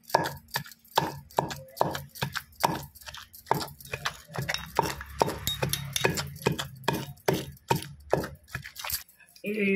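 Roti pachadi chutney pounded in a stone mortar: rhythmic, heavy thuds of the pestle strike about twice a second, with some grinding between blows and a voice speaking underneath.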